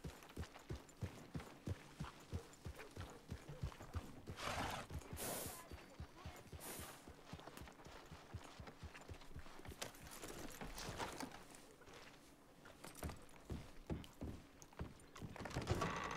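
Horse hooves clip-clop steadily in the Red Dead game, a continuous rhythmic trot at moderate loudness running the full length, with occasional brief louder bursts over a busy ambient background.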